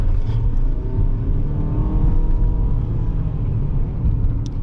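A 2022 Mitsubishi RVR SUV pulls hard through a quick acceleration test, its engine a loud, steady low rumble heard from inside the cabin, rising slightly in tone and holding constant throughout with no talking.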